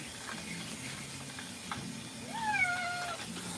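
Short-haired cat meowing during a bath, several rising and falling meows close by, with steady running water from a tap in the background.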